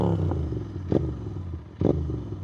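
Royal Enfield GT650 motorcycle fitted with a slip-on exhaust idles close by with a steady low rumble, broken by two short, sharp throttle blips about a second apart.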